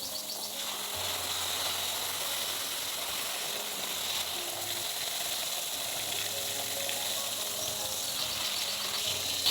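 Water sprays hard and hisses steadily from a leaking hose on a rural water supply line, a continuous close broadband rush with faint mechanical ticks beneath it.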